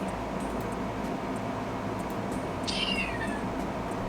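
A single drawn-out cat meow in a video game, fairly near, rising then falling over about a second, against a steady background hiss.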